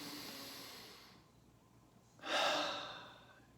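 One person takes a deep breath up close, a soft drawn-out exhale fading away, then after a short pause a sharp, airy inhale that swells and trails off, with nothing else around it.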